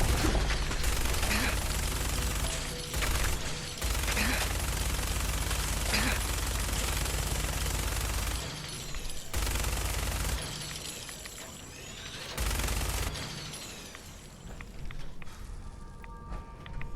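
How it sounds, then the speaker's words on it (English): A freezing minigun firing in Fallout 4, a dense, sustained roar of rapid shots that runs in long bursts with brief pauses, loud and continuous throughout. "Man, this freezing minigun is kind of amazing."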